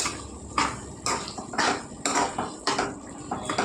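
A spoon scrapes and clanks against a cooking pot while stirring a prawn and ridge gourd curry, a steady rhythm of repeated metallic strokes, close and fairly loud with no talk.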